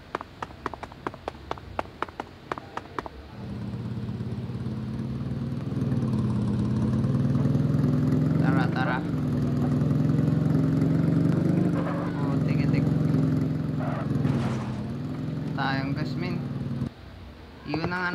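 A motorcycle engine in the shooter game Scarlet Fall rumbles steadily and loudly for most of the stretch, its pitch rising and falling, after a few sharp clicks at the start, with voices talking over it.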